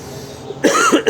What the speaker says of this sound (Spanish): Y él el que estaba tosiendo.